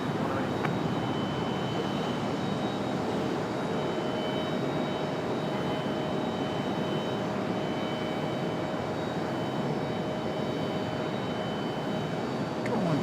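A Mesa Airlines Air Shuttle airliner at Raleigh-Durham airport gives a steady, continuous engine roar at moderate distance that neither rises nor fades, with no talk over it.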